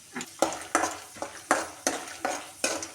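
Cumin, chana dal and peanuts fry in oil while a spoon stirs in regular strokes, about eight scraping sweeps in three seconds over a light sizzle, close up and with no talk.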